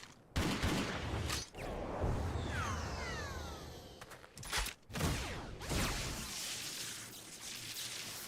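A gunshot rings out in a duel, heard as sharp bursts with whooshing streaks among loud layered game effects and music, the shots fairly close and punchy.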